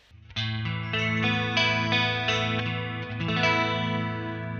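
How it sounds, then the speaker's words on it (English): An electric guitar plays sustained chords with a shimmering chorus effect, rich and warm, ringing out continuously without any voices. "let's have a listen to this chorus sound as well"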